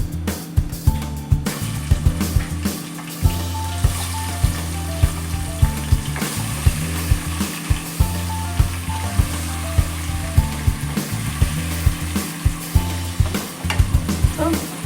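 Chicken pieces, 1 kg, sizzle loudly in a hot pan with whole cloves and cinnamon, a dense continuous frying hiss broken by regular scraping stirs and clinks of a spoon against the pan.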